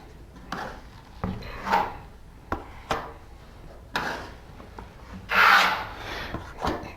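Plaster being gouged and scraped out of a piece of drywall, heard as a series of short, sharp, close scrapes and rasps with gaps between them, with no talking.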